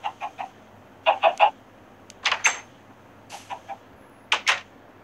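Minecraft chickens clucking in short bursts, several groups of quick clucks spaced across the stretch, close and clear over a quiet background with no talking.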